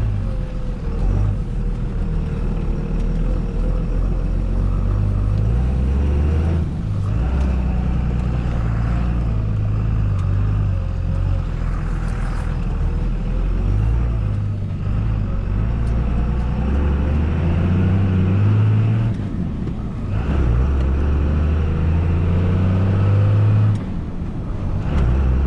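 A 1999 Dodge truck drives steadily past corn stalks, its engine and road rumble loud and continuous throughout, with low droning and slight swells in intensity and no speech.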